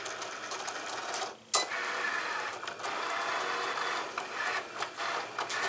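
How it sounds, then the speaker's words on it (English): A Cricut Explore Air cutting machine cutting a design for glass etching, giving a steady mechanical whirring and rasping close by with brief pauses and carriage shifts, no talking. "Today I'm using my Cricut Explorer Air, and I'm just going to hit the go button for it to cut."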